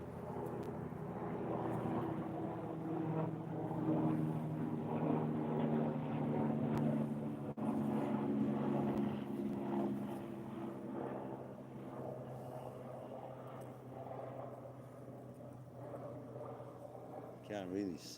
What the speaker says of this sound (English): Definitely a chopper.